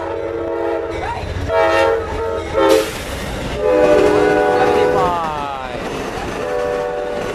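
An Amtrak Silver Star passenger train rumbles past close by in Plant City, Florida, its horn sounding in several loud blasts over the clatter and squeal of the wheels.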